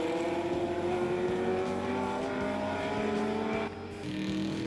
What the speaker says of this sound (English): the Tiga powers past as they make their way to the sweeping downhill left-hander